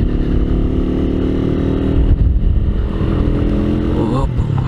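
A Kuba Çita 180R Gold motorcycle engine drones steadily and loudly throughout the ride, with the rumble rising slightly near the middle.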